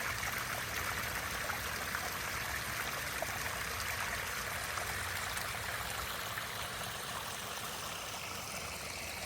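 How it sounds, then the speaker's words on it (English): A garden waterfall runs steadily, a continuous, even rush of splashing water close by with no voices over it. "there's the waterfalls"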